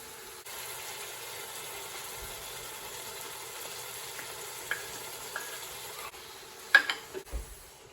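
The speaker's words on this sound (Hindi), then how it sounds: "अब हम इसमें योगर्ट डालेंगे।" Yogurt going into a pan of sizzling cauliflower and mutton curry, heard as a faint, steady low sizzle with a few small clicks and stirring knocks toward the end.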